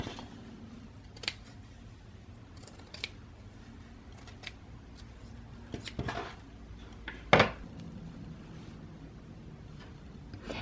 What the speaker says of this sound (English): So I'm gonna go ahead and cut this.